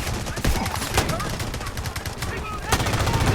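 Dense automatic gunfire from the shooter Delta Force rattles continuously, with bursts overlapping into a steady loud barrage and a few sharper blasts standing out.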